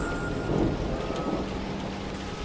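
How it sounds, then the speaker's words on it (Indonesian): Dense, heavy rain pours continuously, a steady loud hiss with a low rumbling undertone throughout. "hujan turun sangat deras tanpa apa-apa."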